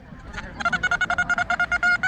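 A metal detector sounds a rapid, pulsing electronic tone during an outdoor hunt for coins, about a dozen evenly spaced beeps following a brief quieter chirp, fairly close and clear.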